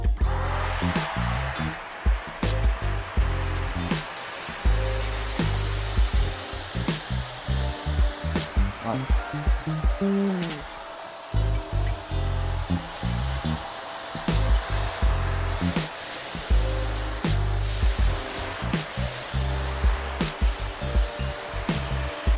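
A Conga ThunderBrush 560 cordless vacuum cleaner runs steadily while sucking up a large pile of debris, its loud motor whine broken by repeated bursts of rattling and gritty crackles as it passes over the heap.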